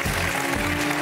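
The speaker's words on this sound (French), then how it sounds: "J'aimerais qu'on applaudisse mes complices" A theatre audience applauds in a brief, dense wash of clapping that stays loud and even, with a faint voice underneath.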